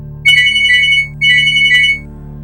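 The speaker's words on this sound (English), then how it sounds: "my phone rang again" A phone rings loudly and close, two long electronic trilling bursts separated by a short pause, over a low steady hum, with no voices.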